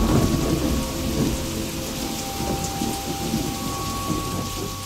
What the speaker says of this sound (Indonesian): Bersamaan dengan itu, hujan pun turun.